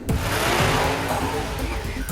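Sports car launching from a standstill under hard acceleration, engine roaring loud and steady with a hint of tire noise throughout, close and continuous.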